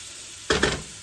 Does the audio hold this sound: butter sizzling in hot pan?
yes